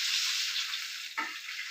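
Food sizzles steadily in a hot pan while being fried for a roast dish, a loud continuous hiss broken once by a short scraping stir near the end.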